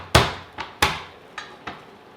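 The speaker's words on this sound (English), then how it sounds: "just get your knife and give it a bash like that" A knife bashing a lemongrass stalk on a cutting board gives five sharp thumping knocks in an uneven rhythm, close and fairly loud, with no talking.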